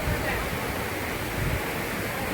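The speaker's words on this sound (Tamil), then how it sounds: "சின்ன கல்லாறு ஃபால்ஸு பார்க்குறக்கே அவ்வளோ பிரம்மாண்டமாக சூப்பராக இருக்குது." Sinnakallar waterfall in Valparai, swollen with heavy water, gives a steady, broad wash of falling water, even and continuous with no clear breaks or voices.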